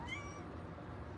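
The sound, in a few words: kitten meowing in the background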